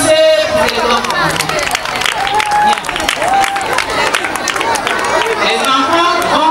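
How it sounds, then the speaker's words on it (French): Audience applause for children at a preschool end-of-year celebration, loud continuous clapping mixed with crowd chatter and some cheering, reverberant and sustained. "Applaudissez pour les enfants."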